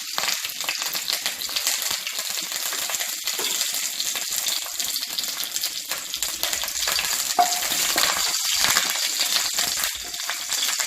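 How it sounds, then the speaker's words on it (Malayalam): Mustard seeds spluttering in hot oil with curry leaves and dry chillies added, a steady dense sizzle with scattered sharp pops and crackles throughout, close and continuous, no voices. "ഇപ്പം കടുക് പൊട്ടി തുടങ്ങിയിട്ടുണ്ട്"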